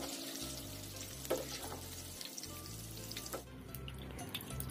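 Tofu frying in a shallow layer of oil, turned repeatedly as it dries, sizzles and crackles steadily throughout with occasional clinks of a utensil, close and alone with no talk.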